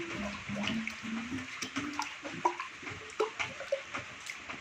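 Water is poured by hand into the check valve of a homemade water pump, making gurgling, splashing sounds followed by scattered drips and small plops, close by and fairly soft.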